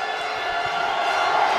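Large arena crowd at the close of a women's basketball championship final in the Palaminardi, Ragusa, a broad steady roar of applause and cheering filling the hall with no clear voice on top.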